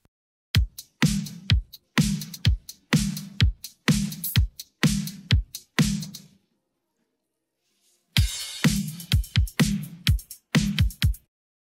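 An isolated drum stem pulled from a full song by Logic Pro 11's stem splitter: loud, punchy hits in a steady groove, with a gap of about two seconds of near silence before the beat resumes.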